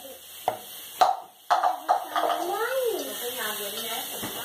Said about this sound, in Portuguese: E agora o arroz já tá bem fritinho, eu vou colocar água.